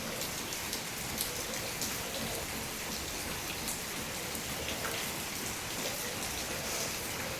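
Steady rain pours down at an ashram, a dense, continuous hiss of drops hitting surfaces, with no voices.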